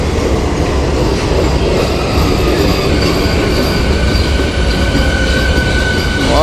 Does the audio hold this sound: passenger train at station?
yes